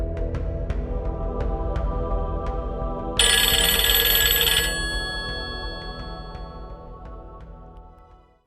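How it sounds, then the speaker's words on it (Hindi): A telephone rings with a repeating electronic ringtone pattern, loud and close, then a brighter burst of the tone that fades away to silence at the end. "बिलाल, मैंने तुमको मना किया था कि तुम मुझे फोन नहीं करोगे, तो फिर क्यों किया तुमने"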